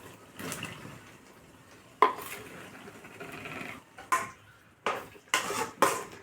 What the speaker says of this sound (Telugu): అలాగే వంకాయలు అనేవి కూడా వేసేసుకుందామండి